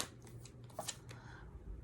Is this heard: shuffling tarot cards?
yes